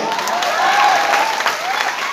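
Audience applause at a teacher's day celebration speech in Patna, steady and close throughout the short burst with crowd noise mixed in and no break.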